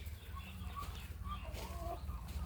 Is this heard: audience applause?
no